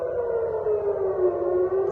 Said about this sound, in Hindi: जोरदार सायरन बज रही है पूरे टेल अवीव में।